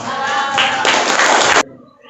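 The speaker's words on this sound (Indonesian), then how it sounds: "Tepuk tangan untuk kelompok" A student group receives applause in a secondary-school Islamic education class, a dense wash of clapping that swells briefly and then stops.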